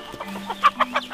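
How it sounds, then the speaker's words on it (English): A chicken on a tea farm gives a few short, close clucks in quick succession over a faint steady hum, brief and moderately loud with no talking. "This chicken is also part of the farm here."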